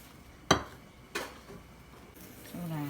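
A metal vadai frying pan is set down on the stove while cooking chow chow sambar, giving two quiet, sharp clanks less than a second apart, then faint kitchen noise.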